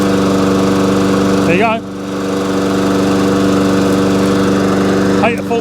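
A Hayter walk-behind lawn mower engine, tipped up beforehand, runs loud and steady, dips briefly as it stutters, then picks back up to a constant drone; someone speaks a few words over it.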